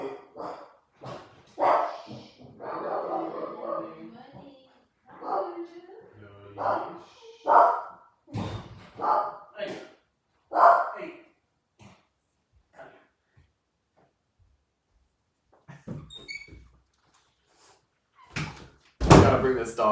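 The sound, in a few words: dog barking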